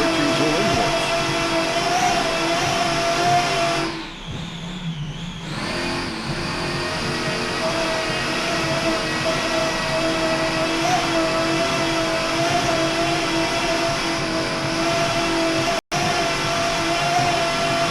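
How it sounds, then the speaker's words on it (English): Racing powerboat with Ritchie Zool inboard engines at the 2000 New York Grand Prix, a steady, loud, sustained engine roar with a brief dip in the middle, continuous throughout and without speech. "Just listen to those Ritchie Zool inboards."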